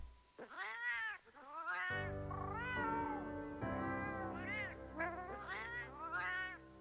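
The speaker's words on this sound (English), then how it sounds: "Feline language? Is it just like meows and stuff?" A Palico cat in Monster Hunter Wilds meows repeatedly in quick, chirpy, pitch-sliding calls set against sustained game music, clear and close, with no talking over it.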